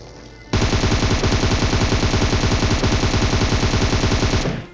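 Automatic gunfire in the mobile game PUBG Mobile, shooting at a buggy's tires: a single sustained burst of rapid, evenly spaced shots, loud and close, lasting about four seconds before cutting off.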